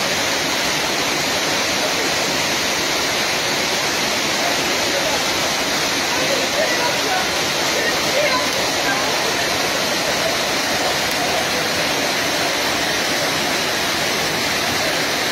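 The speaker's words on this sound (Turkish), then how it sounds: "Şu an Büyük Şelalelerin oradayız." Large waterfall at the Sorgun waterfalls and canyon in Gerze, Sinop, about 22 metres high, heard as a loud, steady, broadband roar of falling water from close by, unbroken throughout.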